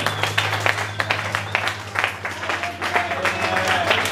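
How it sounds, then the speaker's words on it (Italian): Audience applause and clapping fill a hardcore punk fest show, a steady dense patter of hands running the whole stretch with a few cheers over a low band hum. "facciamo un mega applausone"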